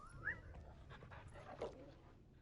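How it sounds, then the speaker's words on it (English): A dog in the video game Final Fantasy XVI pants softly and lets out a couple of brief whimpers, quiet and close. "Dog."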